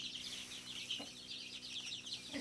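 A flock of 16-day-old Sonali chicks, a non-hybrid native-style breed, chirps and peeps in a steady, busy chorus, with a couple of brief lower clucks rising above it.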